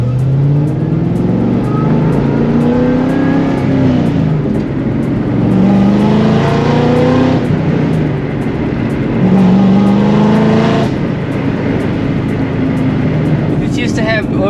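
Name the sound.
race car engine on test drive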